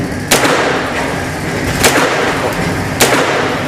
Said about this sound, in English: You're just shooting the target to the left.